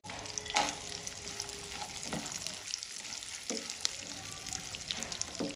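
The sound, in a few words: frying dry fruits (cashews, almonds, raisins) for suji halwa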